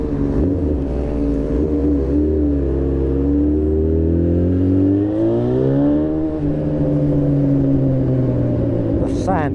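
A custom motorcycle built around a Honda Fireblade, with a Honda CBX 1000 engine, running steadily, then revving up and settling, a deep, smooth multi-cylinder exhaust note heard close and continuous.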